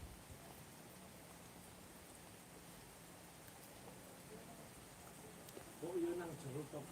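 Steady rain patters on a surface in the background, a soft continuous hiss with a faint bird call near the end.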